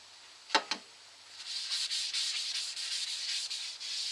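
Oil and wood turner's polish rubbed by hand onto a turned, charred and stained lime wood bowl spinning on a lathe, giving a steady close hissing friction after two brief knocks at the start.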